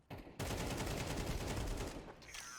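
Rifle gunfire in Counter-Strike 2, a rapid sustained burst of automatic shots fired close and loud for about two seconds, then cutting off into quieter game sound.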